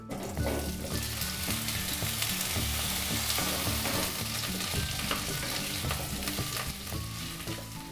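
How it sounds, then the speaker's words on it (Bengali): Potatoes frying in a spoonful of mustard oil in a wok, an even, close sizzle and crackle running throughout with light stirring scrapes mixed in. "আলুগুলো ভেজে নেব।"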